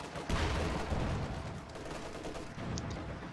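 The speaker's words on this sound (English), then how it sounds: "Oh look, they have more mortars." Mortar fire in the video game Company of Heroes 2: a muffled, distant-sounding rumble of a shell blast followed by a rolling low-end tail, fairly quiet and alone.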